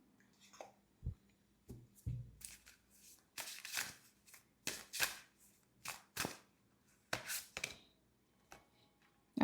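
Tarot cards shuffled by hand, a series of crisp riffling bursts and soft flicks at an uneven rhythm, close and fairly quiet with pauses between.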